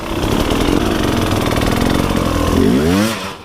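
Hard enduro motorcycle engine at a rough race event, running loud and close with a ragged, uneven note that falters, then catches and revs back up in a rising sweep near the end.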